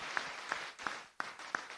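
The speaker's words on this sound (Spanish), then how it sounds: "Un fuerte aplauso para ustedes entonces," Congregation applause inside the Virgen del Pilar parish church in Capiatá, Paraguay: faint, roomy clapping with five evenly spaced sharp accents, as if a few hands are beating in unison, echoing softly in the church.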